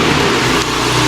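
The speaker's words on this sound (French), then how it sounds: "il a tremblé au ronflement du moteur de la Lamborghini" A Lamborghini engine revs in a short, loud, steady burst of low growling rumble, close by and with no voices over it.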